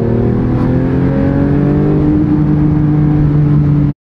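A crashed, rebuilt Porsche 911 GT3 running in limp mode revs hard and holds against its rev limiter, a loud, close, steady engine drone that climbs slightly in pitch, then cuts off abruptly.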